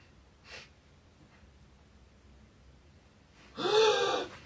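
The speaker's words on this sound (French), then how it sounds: "j'ai entendu des gens respirer." People breathe close by in a quiet space: one short, faint puff of breath, a pause, then a louder, sharp gasping inhale.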